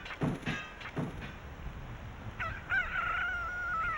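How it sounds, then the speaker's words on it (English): A goofy underwater chicken sound effect from the Ocarina of Time video game, heard as a few short warbling squawks early on, then a longer wavering, tonal crowing cry that runs to the end, moderately loud and alone. "The underwater chicken always makes me laugh. It's just so dumb. Such a goofy sound effect."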